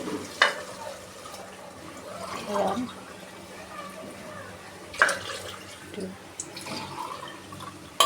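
Water is poured into a pot holding three glasses of rice for green chicken pulao, about four and a half glasses in all; soft, uneven splashing and a few faint knocks, moderately quiet.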